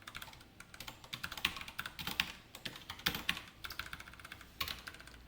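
Code is typed on a computer keyboard during a class on functions, with quick irregular runs of soft key clacks close by, faint and without talking.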